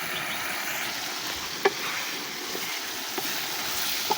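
Beef sautéing in a pot on a clay stove gives a broad, steady hiss and sizzle with a few faint, sharp clinks of stirring, heard close and continuous without voices.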